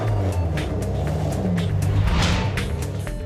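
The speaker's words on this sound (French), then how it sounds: "c'est aussi des voitures modernes et qui roulent" Modern cars driving at the Cité de l'Automobile, a continuous broadband engine and road roar with several passes swelling and fading, fairly close and without talk.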